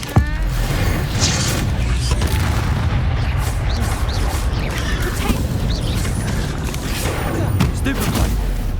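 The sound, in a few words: Bombarda explosion spell in video game Hogwarts Legacy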